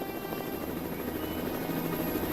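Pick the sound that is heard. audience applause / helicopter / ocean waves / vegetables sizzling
helicopter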